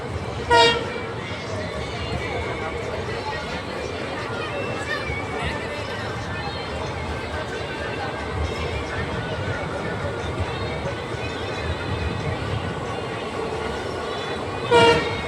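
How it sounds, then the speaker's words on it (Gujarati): Bhavnagar–Porbandar passenger train rolling steadily into Lunidhar station, a continuous loud rumble and clatter of wagons with short horn blasts near the start and end, voices murmuring faintly underneath. "તો લુણીધારમાં ટ્રેન એન્ટર થાય છે"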